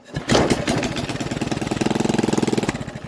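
A Westwood lawn tractor's small engine cranks and catches, then settles into a fast, even, chugging idle, close and loud.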